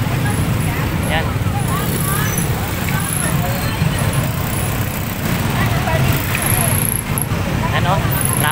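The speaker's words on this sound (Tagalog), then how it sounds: "Ayan, traffic na oh. Traffic na." Road traffic near a public cemetery entrance in Angeles City, Pampanga: a continuous rumble of cars, buses and trucks with engine drone, occasional horn-like tones, and people chattering close by.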